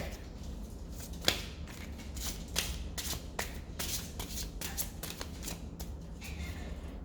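A deck of cards is shuffled in a series of crisp, rapid riffles and snaps, close and fairly loud, repeating in bursts for several seconds with no speech.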